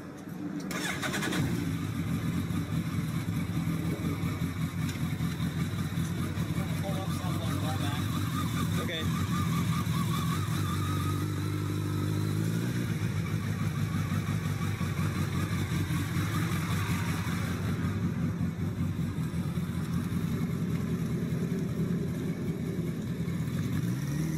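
Engine of a homemade three-wheeled vehicle built from a motorcycle and a car cab, running steadily and fairly loud through the whole stretch, with a brief change in pitch partway, as a voice talks over it.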